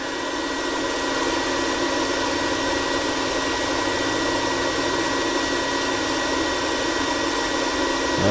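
An induction heater heats a steel nut until it glows red, giving off a steady, loud, unbroken broadband hiss and whine that holds level throughout with no talking.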